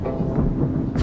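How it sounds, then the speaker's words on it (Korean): Thunder rumbling over a city park in Kuala Lumpur, a loud, continuous low roll that fills the whole moment before a brief brighter burst at the end. "갑자기 천둥 소리가 들린다"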